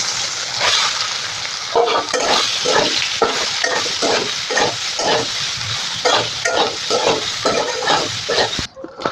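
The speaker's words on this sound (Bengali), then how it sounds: "তেল গরম হয়ে গেছে, এবার সোয়াবিনগুলোকে দিয়ে দেবো" Soya chunks coated in salt and turmeric fry in hot oil with a loud, close crackle, while a spatula stirs in quick repeated scrapes roughly every half second, with no voices.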